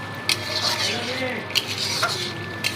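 Chicken kosha being sautéed dry in a pan, before any water is added, with a spoon scraping and stirring in quick strokes over a soft continuous sizzle and a few sharp clinks against the pan.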